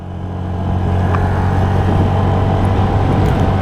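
TVS Jupiter 125 or Honda Activa 125 scooter accelerating at full throttle, a steady loud engine drone building over the first second and then holding under constant road and wind rumble, with no voices.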